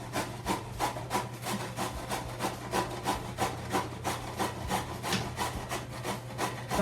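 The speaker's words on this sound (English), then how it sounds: "So I need to really grate a lot of zucchini" Zucchini rubbed firmly against a box grater in a kitchen, making a fast, steady run of rasping strokes, each a short scratchy burst, close and fairly loud with no talk.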